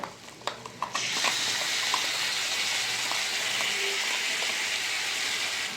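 Water poured into a pan of fish curry masala with ground spices and tomato paste, a steady loud rushing pour that starts after a few knocks and holds to the end.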